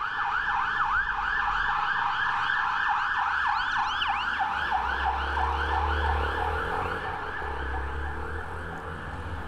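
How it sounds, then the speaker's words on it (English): An ambulance siren on a street in San José, Costa Rica, wails in a rapid, repeating yelp, loud and steady for several seconds over a low road rumble, with no talking. "i got an ambulance here"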